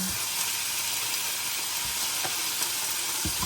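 Chicken browning in a pan, a loud, dense and constant sizzle close to the pan, with a few faint taps of a utensil.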